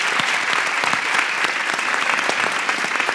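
Studio audience applauds the renowned international Quran reciter Hadi Esfidani on a TV recitation show, a dense, steady patter of many hands clapping throughout at close range.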